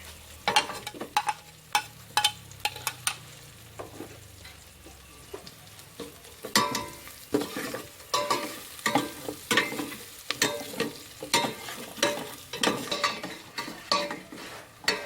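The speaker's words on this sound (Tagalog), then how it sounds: "Okay, brown na po guys. Lagyan na po natin ng ginger." Onions, garlic and ginger sauté in a pan as a native chicken macaroni soup gets started, sizzling close by under repeated sharp scrapes and clacks of a utensil stirring against the metal in an uneven rhythm.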